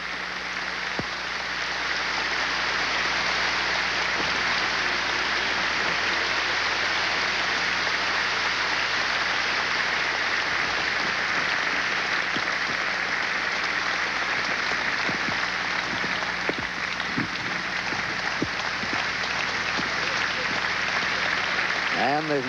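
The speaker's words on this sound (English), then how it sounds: "And the crowd still applauding" A large arena crowd keeps up sustained applause after a pairs figure skating performance at the 1986 Goodwill Games, a dense, even roar of clapping with a commentator talking over it.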